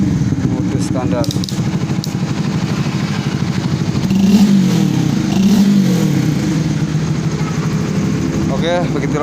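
A Honda CBR 150 Facelift motorcycle idles steadily with its modified three-mode exhaust in standard mode, then gives two brief rev blips in the middle before returning to a steady idle, heard close up.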